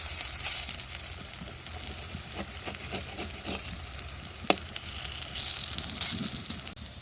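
Pumpkin flower fritters fry in a pan of oil with a soft, continuous bubbling sizzle, low in level, with occasional light crackles and one brief tap partway through.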